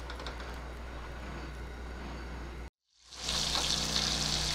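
Butter with a spoonful of oil sizzling in a pan, steady bright frying hiss that cuts out briefly and then returns louder and crisper.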